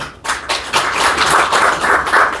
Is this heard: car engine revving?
no